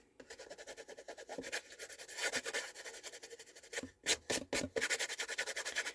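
Steady rhythmic rubbing across a stamped greeting card to lift off excess shimmer powder, a dry raspy scrubbing that repeats in quick strokes, close and moderately loud throughout, with no talking.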